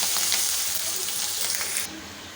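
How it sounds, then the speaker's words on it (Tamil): Ginger, green chilli and curry leaves crackle in hot oil as a tempering for a rava and curd tiffin, giving a loud, dense hiss that drops off sharply near the end. "இது எல்லாமே நல்லா தாளித்து ரெடி ஆகட்டும்"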